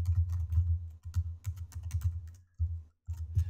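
Typing on a computer keyboard while entering code for a SwiftUI navigation link, a close run of soft key clicks in quick bursts with brief pauses between them.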